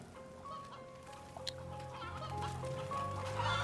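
Chickens clucking in the video game MediEvil, several short repeated clucks over a steady tonal game backdrop with low rumble, moderately faint, no talk.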